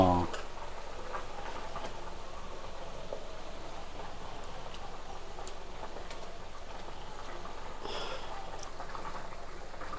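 Fish curry with dried mango simmers in a pot over a rural cooking fire, giving a quiet, steady bubbling with soft ticking pops throughout.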